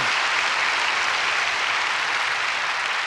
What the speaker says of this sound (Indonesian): Oke, tepuk tangan sekali lagi.